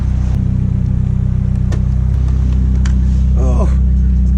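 A Nissan Silvia S14 idles with a loud, steady low engine drone and rumble close up, while people talk over it.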